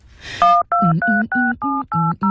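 Telephone keypad tones sound as a number is dialed for a call: about seven evenly spaced beeps after a brief rustle, clear and close with no talking.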